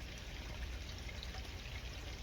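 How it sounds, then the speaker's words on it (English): Water runs steadily from a white pipe into a 4-inch perforated drain pipe in a 500-gallon fish tank aquaponics wicking bed, making a constant soft pouring trickle that stays even and fairly quiet throughout. "The water comes out this white pipe into the 4-inch perforated drain pipe."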